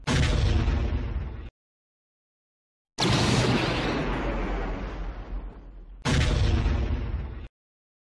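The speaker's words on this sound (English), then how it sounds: "the corvette explodes" A starship corvette blowing up in Star Wars: Armada, three loud booming blasts separated by silences, the middle one rumbling and decaying longest.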